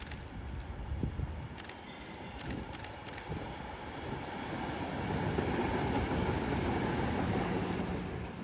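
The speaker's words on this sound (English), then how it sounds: "But luckily for Tyler, it wasn't long until our first train arrived." MBTA Green Line Extension test train arriving in dismal weather, a low rumbling roll of railcars with faint wheel clatter, growing steadily louder as it passes nearby.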